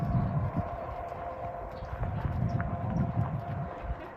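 A horse walking under a rider at a riding clinic, its hooves giving a steady, soft clip-clop rhythm at moderate distance with no talk over it.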